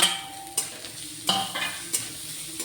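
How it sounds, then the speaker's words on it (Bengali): Chopped onion, garlic and ginger fry in a pan while being stirred, a close, continuous sizzle punctuated by four or five distinct scraping strokes of a spatula against the pan, with no speech. "সবটা দিয়ে একটু নাড়াচাড়া করি।"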